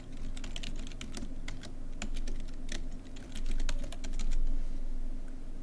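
Rapid keystrokes on a computer keyboard while logging in, irregular clicks and taps close to the microphone, continuous for several seconds with no talking.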